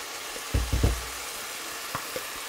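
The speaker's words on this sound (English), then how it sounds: "now we're going to add our masala that we blended straight in" Blended masala paste hitting a hot frying pan for achari chicken, giving a few short bursts of sizzle and splatter near the start, then quieter pops under a steady background hiss.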